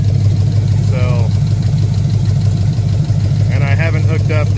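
Steady low rumble of a 454 V8 idling in a Cadillac Fleetwood hearse, loud and close, with someone talking over the engine.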